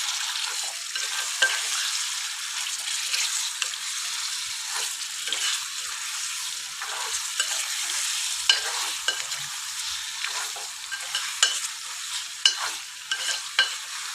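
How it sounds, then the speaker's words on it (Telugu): Marinated chicken for Avakaya chicken curry is stirred through a hot pan, giving a steady, even sizzle and frying hiss with faint stirring scrapes throughout. No one speaks. "ఆల్రెడీ మనము మ్యారినేట్ చేసి పెట్టుకున్న చికెన్ అనేది ఇప్పుడు యాడ్ చేసుకొని ఒకసారి మనము మంచిగా కలుపుకోవాలి"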